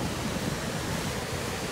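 Surf at Huntington Beach: loud, steady broadband wash of ocean waves with wind noise on the microphone, no voices over it.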